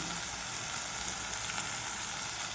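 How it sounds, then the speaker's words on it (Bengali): Spice paste for a mutton curry frying and sizzling steadily in a pan, a continuous close hiss with faint crackle and no talking. "মশলাটাকে পাঁচ মিনিট ভালো করে কষে নেবো টমেটোমের কাঁচা গন্ধটাও চলে যাবে"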